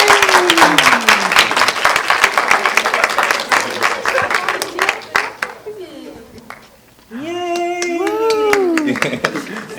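Dense clapping from an audience at a film screening fills the first half, fading out, followed by a child's and adult's voices speaking.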